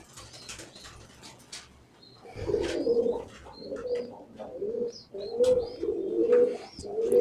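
A pigeon coos close by in low, throaty, rolling bursts, repeated several times with short pauses between them. Faint chirps and small rustles sound in the background.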